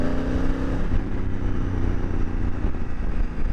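A Honda Africa Twin motorcycle cruises along a road on a dry weekend, its engine a steady loud low drone mixed with rushing wind noise throughout.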